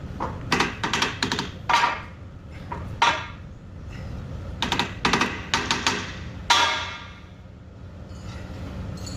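Sharp metallic taps ring out in irregular bursts as a bearing nut is struck on a Lancaster 4220 hammer mill, clustered knocks with brief pauses between, fairly close and without talk.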